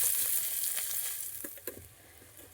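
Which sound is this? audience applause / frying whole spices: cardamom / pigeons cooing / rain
frying whole spices: cardamom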